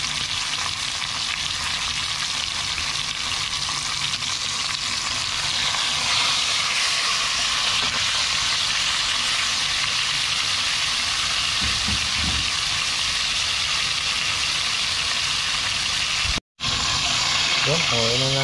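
Tilapia fish frying in a pan gives a steady, loud sizzle and crackle for most of the clip, with a brief sharp dropout near the end, and background talk is faintly present.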